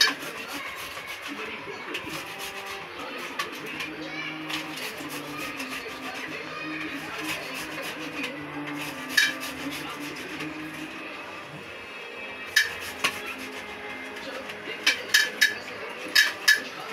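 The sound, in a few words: grinding ginger and garlic in a small grinder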